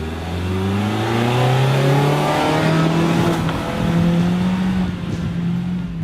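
A 2016 Mazda CX-3 AWD engine revs hard and steadily, its pitch sweeping up and down through several rises, loud and close with no talking.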